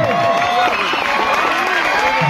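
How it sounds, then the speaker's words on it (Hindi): Audience applause and cheering welcoming performers at a Bhojpuri stage program at Chhathiya Ghaat, Jagdishpur: a dense, loud, steady wash of clapping and crowd noise, with a voice over it. "जोरदार तालियां स्वागत कीजिए आप लोग"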